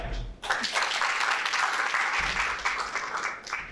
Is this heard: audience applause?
yes